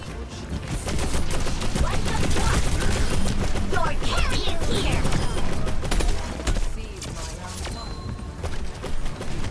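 Weapons fire rapidly in Overwatch 2 during a D.Va versus Zarya match, dense rattling bursts with impacts and effects, while someone talks over the action.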